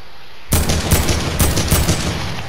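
Loud, close automatic gunfire in a video game, a sustained rattling burst with a few heavier pulses, starting abruptly and running without pause.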